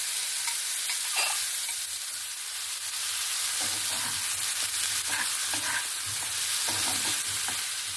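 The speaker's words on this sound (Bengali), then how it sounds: "মোচাটা দিয়ে ভালো করে আমি মশলার সঙ্গে মিক্স করে নিয়েছি" Boiled banana flower being stirred and fried with ginger paste and spices in a pan: a steady close sizzle throughout, with soft scraping strokes of the spoon layered over it.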